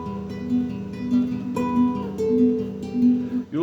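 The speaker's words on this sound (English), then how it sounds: "And I'm playing a sort of traditional, more conventional nylon string guitar." A traditional nylon string classical guitar plays sustained, warm chords and picked notes, steady and close, with no voices.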